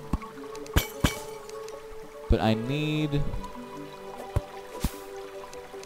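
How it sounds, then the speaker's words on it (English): Water in the Terraria video game pours and drips in a sandy area. Sharp separate drip clicks are spaced throughout, and a gurgling pouring swell comes in the middle. Someone talks briefly over it. "And now it's getting noisy. That's a lot of water."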